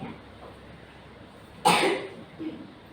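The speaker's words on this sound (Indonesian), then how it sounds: "Maaf ibu sambil batuk-batuk ya" A woman with a lingering cough gives one sharp, close cough, followed by a smaller throaty sound against faint room noise.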